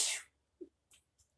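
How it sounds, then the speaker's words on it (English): A single sharp sneeze bursts out, followed by a few faint breathy sounds and soft noises in near silence. "I'm sneezing because of my allergies."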